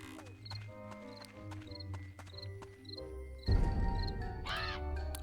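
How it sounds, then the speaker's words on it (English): Crows caw repeatedly in the Pumpkin Jack video game, short harsh calls in a steady rhythm over game music, followed by a louder burst of flapping and fluttering wings. "Oh great, more birds!"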